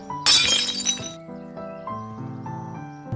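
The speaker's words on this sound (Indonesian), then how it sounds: "Di rumah, Charles melihat ada piring pecah, lantas berniat membersihkannya" A plate shatters in a film scene, a loud burst of breaking glass and ceramic with tinkling shards for about a second, then settling under a sustained musical background.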